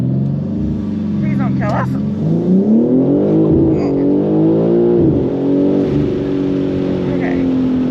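A BMW M3 fitted with a BMS intake launches and accelerates hard, its engine note rising and falling through gear shifts close by inside the cabin while people talk over it.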